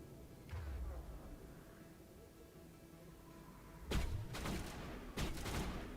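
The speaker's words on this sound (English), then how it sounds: "I want to use my shotgun." Shotgun blasts in Mass Effect 1 Legendary Edition: three sharp, loud reports at an uneven pace, each with a short echoing tail, after several seconds of low ambient rumble from the game.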